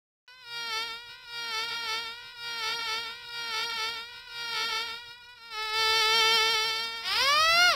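Synthetic buzzing bee drones in repeated short bursts from a Starfall children's counting app, a cartoonish game-style buzz with wavering pitch, growing denser and louder toward the end.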